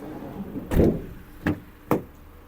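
The right-side door of a 2021 Opel Movano L2H2 van is worked open, making a heavy thud and rattle followed by two sharp metallic clacks, close by with no talking.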